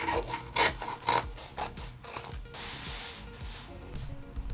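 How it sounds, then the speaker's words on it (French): Scissors cut through a trouser leg in a series of close, crisp snips and rasping fabric rubs, then a steadier tearing, scraping run of cutting noise with no talk. "Donc je découpe finalement une jambe de pantalon."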